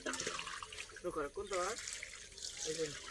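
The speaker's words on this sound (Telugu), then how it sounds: "ఆ పైప్ అక్కడ తోడుతుంటే ఆ వాటర్ ఆ గొట్టంలో ఉంచి కింద పడి ఆ మొక్కల్లోకి వెళ్తుంది" Water trickles and splashes from a pipe into a village garden's plants, a soft running sound under steady nearby talk.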